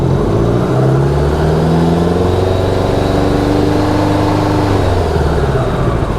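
A 1986 Honda Goldwing GL1200 motorcycle engine runs steadily and loud close by, with its pitch swelling and easing as it is revved up, no voices over it.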